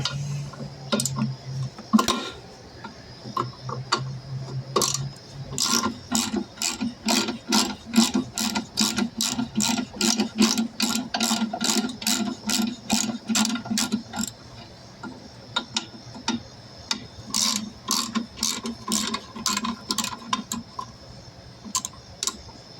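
Ratchet clicking on a carburetor job, rapid close metallic ticking in long steady runs with brief pauses, no talk over it.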